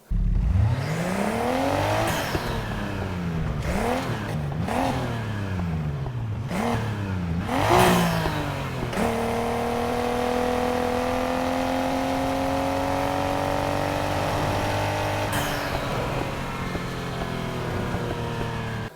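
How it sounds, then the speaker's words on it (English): Nissan Skyline R32 engine sound with a stock RB26 inline-six in a Need for Speed game, revving up and down in several sharp rising and falling bursts, then settling into a long steady climbing drone, close, loud and alone. "Use the R32 stock RB26 sound for the R34."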